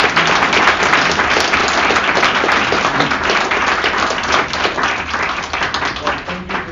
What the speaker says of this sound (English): So we all give them a round of applause.